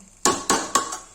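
A metal lid settles over a pot of cooking mutton with three sharp, evenly spaced clanks, close and loud, with no talk.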